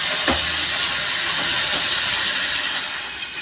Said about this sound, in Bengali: দেখুন বন্ধুরা, মাছটা আমার প্রায় ভাজা হয়ে গেছে।